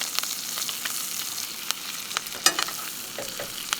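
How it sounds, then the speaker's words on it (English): Butter sizzling and frying in a pan with garlic cloves, rosemary and thyme, a steady close crackle with small pops and occasional stirring or spoon scrapes. "we'll just go ahead and drop that glob of butter in there"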